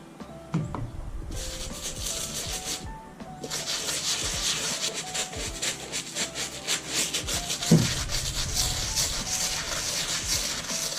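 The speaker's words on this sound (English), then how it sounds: "we'll go back in with our brush" A brush scrubs the sole of a Panda Dunk Low sneaker in rapid, uneven back-and-forth strokes, a close, raspy rubbing that starts after a few taps and keeps going.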